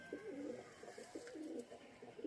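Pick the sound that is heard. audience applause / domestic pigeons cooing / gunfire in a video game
domestic pigeons cooing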